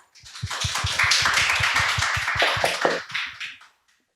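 Audience applause at an award ceremony for an upcycling ideas contest against plastic waste: a crowd claps steadily for about three seconds, with sharp individual claps audible near the front, then fades out.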